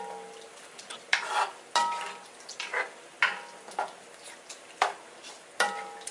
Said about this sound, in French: Nous allons remuer tout ça